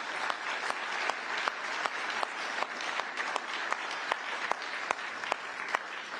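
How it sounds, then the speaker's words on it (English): Steady applause from an audience at a NATO women's reception, dense clapping throughout with a few sharper individual claps standing out, fairly distant and even. "You can clap for that"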